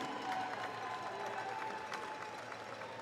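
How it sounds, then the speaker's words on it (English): Steady applause from a crowd at a ball hockey national championship medal ceremony, honoring the silver medal team, sustained and fairly faint with a light murmur of voices mixed in. "We have a hand of applause for these guys."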